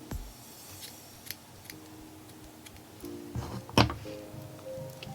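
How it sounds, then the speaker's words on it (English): Scissors snipping the yarn tail of a knitted hat, a few close, crisp metallic clicks and one louder snip near the end, against a faint steady hum. "I take my yarn, and I cut a tail long enough to weave in later."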